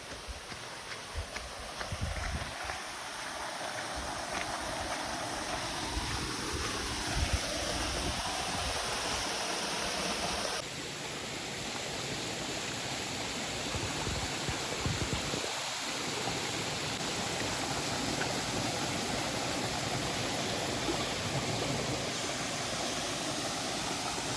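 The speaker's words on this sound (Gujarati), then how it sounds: "આપણે આવી ગયા છીએ ધોધ પાસે અને આપ ધોધનો વ્યૂ જોઈ શકો છો" A continuous broadband roar of Bujjaro Waterfall near Danta, Gujarat, fills the whole stretch, steady and fairly loud, with faint knocks and handling noise near the start.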